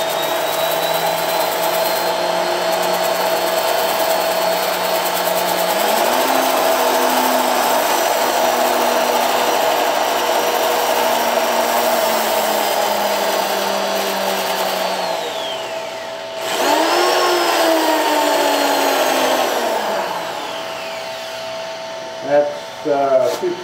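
A turned piece spins on a wood lathe while being power sanded with 220 and 320 grit sandpaper, producing a loud, steady whirring hum whose pitch shifts partway through before easing off near the end.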